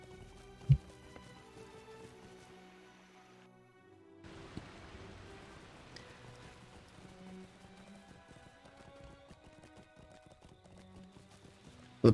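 Horse galloping in the online game Lord of the Rings Online, a steady clip-clop of hooves running under layered game music and ambience, with a couple of sharp louder clicks at the start and end.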